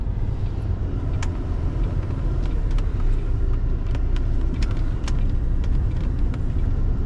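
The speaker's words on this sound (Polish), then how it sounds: "że ja tu w prawo jadę z kłonicówką" A logging truck with log stakes rolls into a Lidl car park, its heavy engine a steady, close rumble with faint road noise throughout, no voices.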